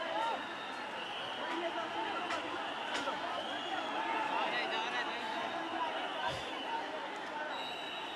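A protest-march crowd surges forward while riot police swing lathis, a dense continuous babble of many voices and shuffling bodies at middle distance, steady throughout with occasional sharper knocks.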